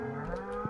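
Cows mooing in the farming video game Stardew Valley, a steady low bovine call held across the short moment with a brief brighter blip near the end, close and fairly quiet with no talk.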